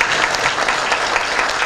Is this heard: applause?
yes